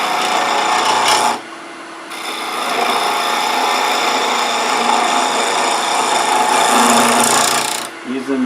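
A skew chisel takes a planing cut on a wood lathe while turning a magic wand, a steady close rasping of tool on spinning wood with a brief pause near the start.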